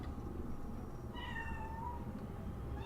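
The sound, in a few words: cat meowing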